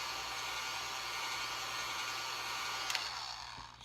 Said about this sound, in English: you take your hairdryer out and you dry it